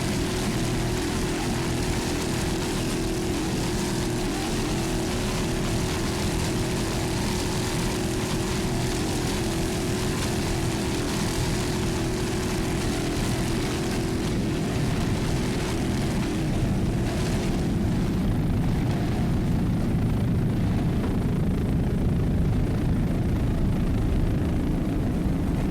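A 26-foot Wildcard Signature racing powerboat with a 500-horsepower Mercury inboard engine roars steadily and loudly through an offshore race at Key West, a dense continuous engine drone mixed with wind and water rush.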